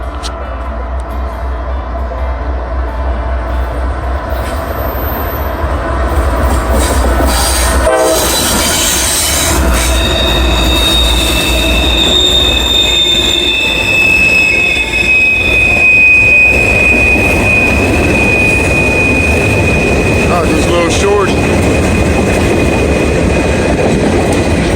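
A heavy freight train on the line toward Grafton passes close by with a loud continuous rumble and clatter of wheels, shrill wheel squeal, and horn-like tones, with some faint talk.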